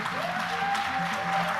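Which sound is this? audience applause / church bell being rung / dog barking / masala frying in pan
audience applause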